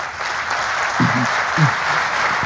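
An audience at a talk on everyday toxic chemicals claps in a steady wash of applause, with a couple of brief low voices or sounds breaking through midway.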